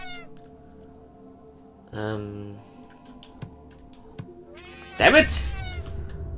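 Cat meowing in the video game Slayaway Camp, a short meow partway in and a louder strained yowl near the end, over a low steady game hum with someone talking.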